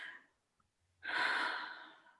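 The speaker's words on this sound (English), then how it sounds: "Sound of breathing." Close breathing at night: a short breath, a pause of silence, then one long, audible breath out that fades slowly, with no talking.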